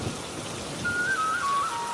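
Rain falls steadily in a cartoon story, a broad close hiss with a faint thin whistle rising over it partway through, and no speech.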